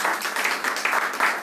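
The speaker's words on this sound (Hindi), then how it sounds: "एक बार जोरदार तालियां आप सबके" Enthusiastic clapping from a seated audience at a product information talk, close and lively with uneven bursts of hands that swell and dip across the moment, no speech on top.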